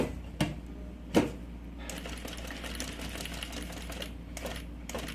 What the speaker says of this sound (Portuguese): Passa um pesponto aqui em cada lado